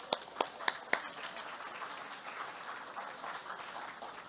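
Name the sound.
applause for children at a ceremony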